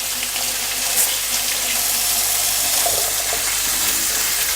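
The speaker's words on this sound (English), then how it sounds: "Wash my hands real quick" A kitchen sink tap runs steadily while hands are washed under it, a continuous close hiss of splashing water with no talk.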